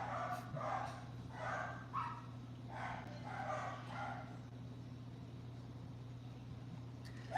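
Faint, distant dog barks repeat in a short series, then fade, leaving a steady background hum.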